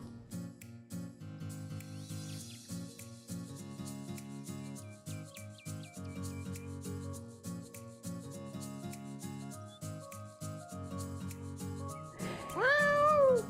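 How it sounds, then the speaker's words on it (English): A pet cat meows softly and repeatedly in a quiet room, with a steady run of short, faint mews and a louder, drawn-out meow at the very end. "Oh, this is my kitty."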